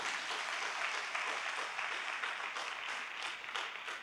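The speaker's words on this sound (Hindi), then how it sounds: "एक जोरदार तालियां होनी चाहिए।" Audience applause fills a business award and recognition gathering, a dense, steady wash of many hands clapping that stays loud and unbroken from start to finish.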